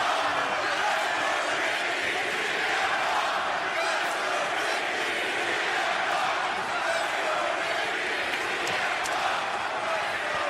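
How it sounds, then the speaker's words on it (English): A large, divided wrestling crowd at an AEW Collision event in Calgary roars steadily, a loud continuous wash of cheers and chants with no pause throughout. "Divided crowd."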